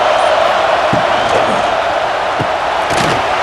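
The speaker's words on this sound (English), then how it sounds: "And here comes the noise. This crowd is trying to inspire this defense to make a big red zone stop." Stadium crowd roar from NCAA College Football 26, a Penn State Nittany Lions versus Ohio State Buckeyes game on PS5, swelling loudly and steadily during a red zone defensive stand, with a few sharp thumps and cheers rising through the din.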